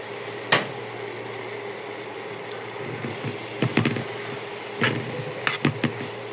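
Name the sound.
prawns frying in oil with cumin powder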